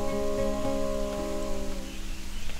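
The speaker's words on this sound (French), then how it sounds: "De l'eau, la pluie." Rain patters steadily beneath sustained musical tones in a radio-style story recording. The downpour grows more evident as the tones fade.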